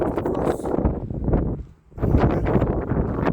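Wind roars steadily across an open microphone on Gerlitzen mountain in the Alps, a broad gusty rush that dips briefly and then surges back, loud and close.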